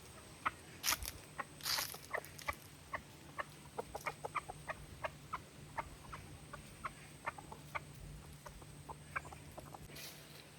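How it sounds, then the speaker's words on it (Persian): Silkie chickens at a farm café in Gilan, Iran, make soft, steady clucks in a quick pattering series at moderate distance, with a few louder squawks near the start and faint background ambience. "مرغ ابریشمی اطلسین هستن دوستان."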